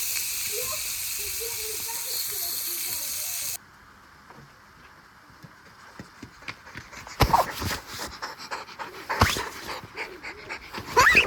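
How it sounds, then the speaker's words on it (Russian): A stray puppy pants and scampers around near an outdoor barbecue with a gas grill in Turkey, with soft breathing and pattering movement followed by louder close bumps and scuffles, people talking nearby. "Пес пристал какой-то."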